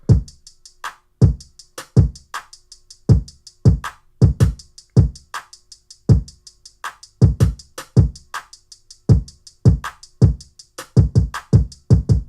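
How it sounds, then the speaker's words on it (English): Heavy, punchy kick drum thumps driving a beat alongside ticking hi-hats, loud and up front with no talking. "I like this kick a lot. It hits pretty hard,"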